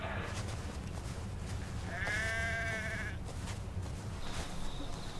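A sheep bleats once, a wavering cry lasting about a second, moderately close over steady outdoor wind and rumble, with faint farm-animal noises around.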